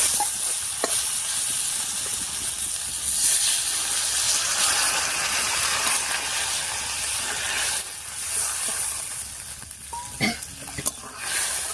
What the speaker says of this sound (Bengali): এবার এর মধ্যে জল দেবো।